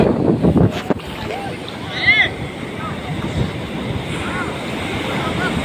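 Ocean waves wash in at a beach with a broad, rushing roar and a swell near the start, buffeted by wind on the microphone while young people talk and shout nearby.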